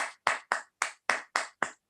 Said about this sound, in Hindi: जबरदस्त तालियां सभी लोग बजा दें